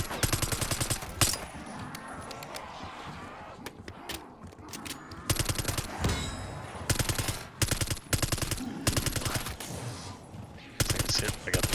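SMG gunfire in a Call of Duty match, with repeated rapid full-auto bursts of a high-capacity submachine gun separated by short pauses, loud and close, with game sounds between bursts.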